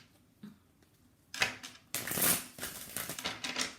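Tarot cards being shuffled by hand: a few soft riffles and slaps at first, then a longer run of crisp, close riffling bursts with no talking.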